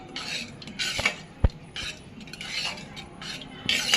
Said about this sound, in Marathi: आपली भाजी शिजल्या नंतर चांगली मिक्स करून घ्यायची